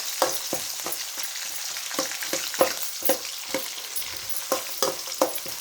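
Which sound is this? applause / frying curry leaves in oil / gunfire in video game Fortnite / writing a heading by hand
frying curry leaves in oil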